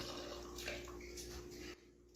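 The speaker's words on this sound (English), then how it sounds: "Pour a little bit right there." Jameson whiskey pours into a glass as a soft, steady liquid trickle for under two seconds, faint and close, then stops, leaving a low hum.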